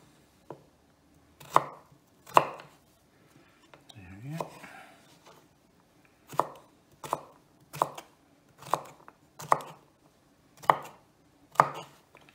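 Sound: chopping broccoli

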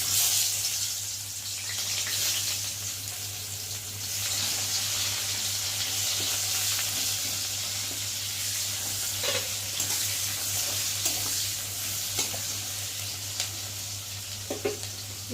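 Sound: potatoes frying in leftover fish oil

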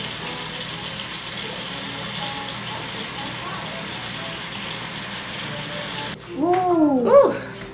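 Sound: pouring sauce into pan while cooking

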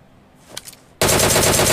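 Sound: gunfire in a video game (PUBG)

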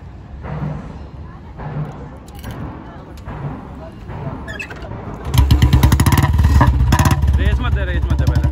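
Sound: Royal Enfield Bullet 350 BS6 engine with changed bend exhaust pipe

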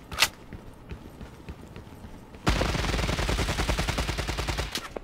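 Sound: gunfire in the video game Lost Light

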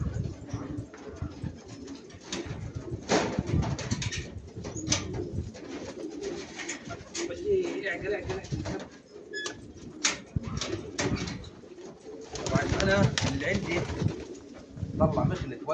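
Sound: birds cooing, pigeon hunting

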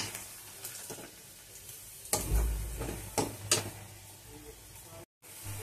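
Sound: chopped onion frying and browning in a pan

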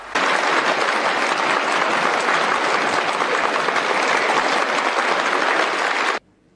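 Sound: warm applause welcoming Jiang Zemin

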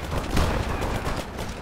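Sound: gunfire in video game War Alert WWII

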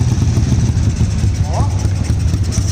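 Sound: Honda CG 99 motorcycle engine idling

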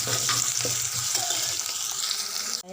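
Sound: sautéing ginger garlic paste with onions in a pan

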